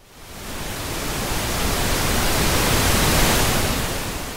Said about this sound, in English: Could be the actual white noise tone, which is almost a bit like radio static.